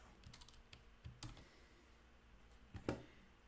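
Computer keyboard typing while coding a game spell, heard as sparse, irregular clacking keystrokes with a couple of sharper, louder hits, fairly close and without any talking.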